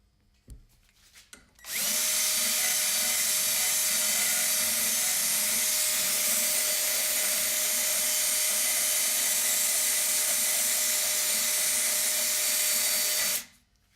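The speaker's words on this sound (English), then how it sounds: "Just using my carbide bit on my drill to get rid of the rest of the rubber that's in there." Drill fitted with a carbide bit grinding leftover rubber out of a Delrin bushing, a loud continuous high whine that starts abruptly, holds steady for about twelve seconds, then cuts off.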